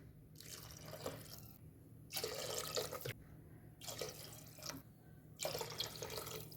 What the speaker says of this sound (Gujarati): આપણે અહીંયા 5 વાટકી પાણી ઉમેર્યું છે